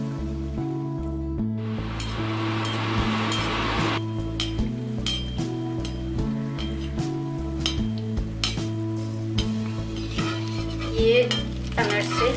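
Jaggery anarsa sweets fry in a pan with loud, continuous sizzling, broken by frequent light clinks and taps of a utensil against the pan, with no voice over it.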